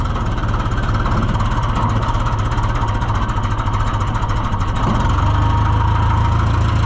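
A vehicle engine runs steadily at a low, rough drone while driving straight into blowing snow on a farm, loud and close throughout, with no one talking.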